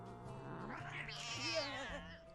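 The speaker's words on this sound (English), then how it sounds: "Look at all these cats." Several cats meow and caterwaul in a rising, drawn-out wail over a low background hum, with faint talking beneath.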